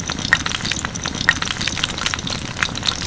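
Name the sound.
eggplant slices frying in oil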